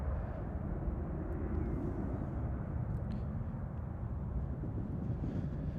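A constant, broad, rumbling roar from an airliner taking off at Manchester Airport, heard from a distance and steady throughout with no speech.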